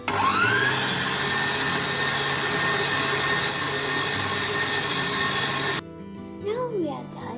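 An electric mixer whirs steadily through pandan gula melaka cupcake batter, loud and constant for several seconds before it cuts off. Faint voices follow.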